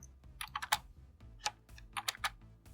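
Keys clatter on a computer keyboard in a few quick, close bursts of typing separated by short pauses, with no voices.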